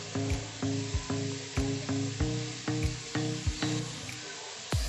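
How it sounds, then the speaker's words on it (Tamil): Water boils vigorously in a pot as rice flour dumplings for sweet paal kozhukkattai go in, giving a close, rhythmic run of bubbling pops and churning with no talking. "தண்ணி நல்லா மலமலன்னு கொதிக்குது."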